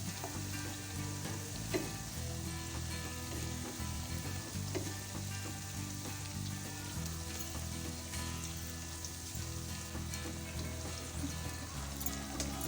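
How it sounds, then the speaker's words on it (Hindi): Potato pakora fritters fry in oil over a medium-low flame with a dense, even, continuous sizzle and crackle, close up and steady throughout, with no voices. "इसे मीडियम टू लो फ्लेम पे फ्राई करना है।"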